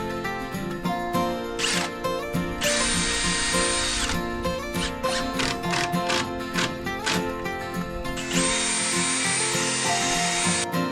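A power drill drives screws into pre-drilled wooden slats on a jetty, with whirring bursts rising and falling over steady background music, close and fairly loud.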